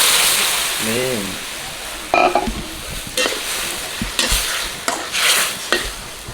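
Curry powder sauce is stir-fried in a pan for shrimp, with repeated scraping strokes of a spatula over a steady frying hiss; a brief voice is heard early on.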